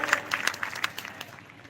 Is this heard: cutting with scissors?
no